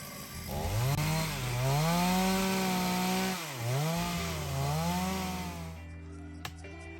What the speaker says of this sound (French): de découper comme il peut avec son tronçonneuse un bon bout de bois